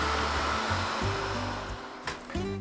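A Daikin Carrime portable air conditioner runs in drying mode at a camp, giving off a steady, breathy blower rush with a low hum, close by, while faint clicks and shifting tones break in briefly.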